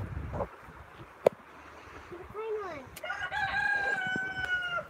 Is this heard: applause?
no